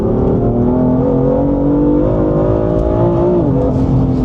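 A modified BMW M4 with a Clubsport tune pulls hard in third gear, its engine note rising steadily in a loud, close, continuous roar with a slight dip near the end.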